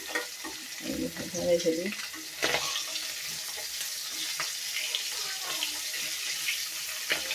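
Hilsa fish pieces frying in plenty of oil make a steady, close hiss and sizzle, broken by a few utensil clinks as pieces are lifted out, with someone speaking briefly over it.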